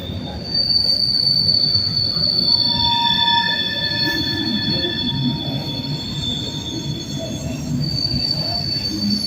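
Freight train crossing a railway bridge at night, wheels squealing in sustained high metallic tones over a steady rumbling roar of rolling cars, continuous and fairly close.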